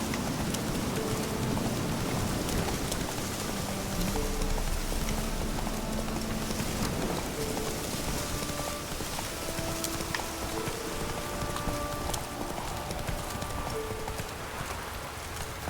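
Horse hooves pound steadily at a gallop in The Witcher 3, a rapid clip-clop running continuously beneath heavy rain and a dense, loud game soundscape.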